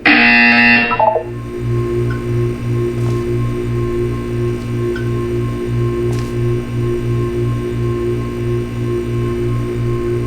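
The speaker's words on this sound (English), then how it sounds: "You will hear a buzzer." Buzzer in the Portal 2 video game, sounding as a steady, loud, pulsing low electronic drone that repeats rhythmically for about nine seconds after a brief bright tone at the start, with no talking.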